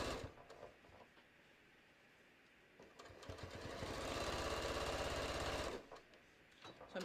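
A sewing machine quilting a fabric bucket hat runs in a rapid, steady whir that starts near the middle of the clip, lasts about three seconds, then stops, with brief quiet stitching sounds before and after.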